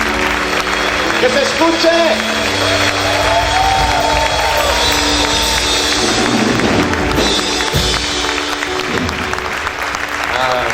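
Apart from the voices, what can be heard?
church congregation applauding and cheering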